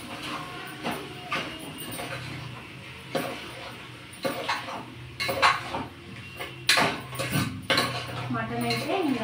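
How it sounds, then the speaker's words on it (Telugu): Mutton pieces being stirred in oil in a pot with a utensil, giving repeated scraping and clinking strikes of metal on metal at an irregular rhythm, close and moderately loud over a low background hum. "మటన్ అయితే ఇంకా కలుపుతూ ఉన్నాను."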